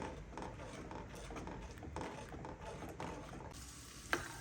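Tomato sauce with vinegar and red chutney is stirred in a pot, producing soft, repeated scraping strokes over a faint simmering sizzle, ending with a sharp knock.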